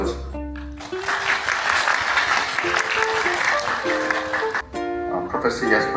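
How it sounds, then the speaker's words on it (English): An audience applauds to welcome a professor from NYU at a game design department event, with dense clapping running throughout and a voice speaking briefly at the start and again near the end. "please welcome him with applause."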